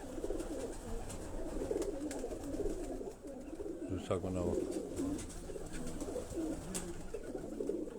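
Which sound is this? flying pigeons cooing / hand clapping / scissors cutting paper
flying pigeons cooing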